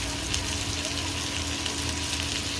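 Bhetki fish fillets frying gently in butter in a pan, giving a steady, fine sizzle with a faint low hum underneath that carries on evenly throughout.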